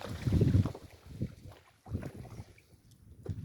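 A small boat moves through a beel thick with water lilies at Ichamati Beel, Narail, with soft water swishes and low rumbles coming in uneven bursts, close to the microphone, amid light wind noise.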